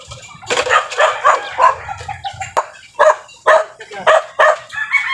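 A dog barks in short, repeated bursts close by near a riverside mango tree, the yaps spaced irregularly and mixed with a person talking.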